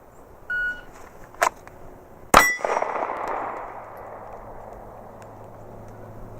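A beep sounds, then two sharp shots from a Gen 5 Glock 26 pistol ring out about a second apart, the second striking a steel target with a loud clang that rings and fades.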